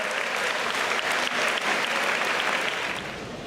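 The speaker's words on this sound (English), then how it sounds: "Let's give a round of applause to our staff members for the great job that they did for you guys this year." Audience round of applause for staff members at a school send-off for tennis and track athletes, dense continuous clapping that tapers slightly near the end.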